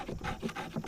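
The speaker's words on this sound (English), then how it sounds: "any piece of birch bark, and you just scrape back and forth until you get" Birch bark scraped back and forth to raise dust and chips for fire lighting, a dry rasping rub repeated in quick strokes about every quarter second, close and fairly quiet.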